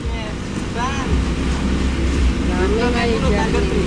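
Boat motor running steadily at a beach, a loud continuous low engine drone with wind buffeting, while people talk over it.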